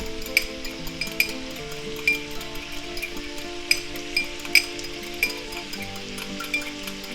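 Ground beef and vegetables stir-frying with soy sauce and a little cornstarch, giving a soft continuous sizzle broken by light clinks and taps of a utensil against the pan, fairly quiet and close.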